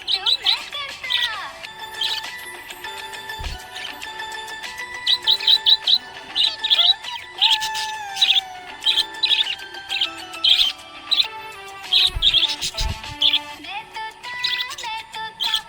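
A pet budgie chirps and tweets in quick, bright bursts and trills, close and lively, over a softer steady whistle of other chatter.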